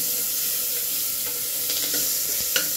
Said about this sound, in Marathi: टोमॅटो असा चांगला परतून घ्यायचा।